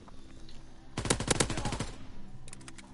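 Video game gunfire from a first-person shooter, a quick burst of rapid automatic shots lasting under a second, followed by a few fainter shots, fairly quiet overall.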